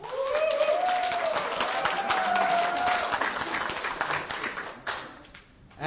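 A crowd applauds at an NFT investment event, a dense wash of clapping that holds steady for several seconds and then thins out near the end, with a faint voice or tone drifting over it early on.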